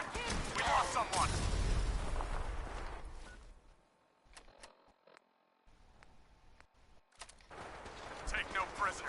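Gunfire in the video game Fallout 4, bursts of loud shots and crashing impacts at the start, a quieter gap with scattered clicks, then heavy firing resuming, with a voice talking over the action.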